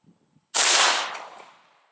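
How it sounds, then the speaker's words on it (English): A single loud, close gunshot from a Yugo M92/M85 AK-47 rifle aimed at a 50-yard target, a sharp crack followed by a decaying outdoor echo after a brief near-silent lead-in. "I'm going to go ahead and put a few rounds on there"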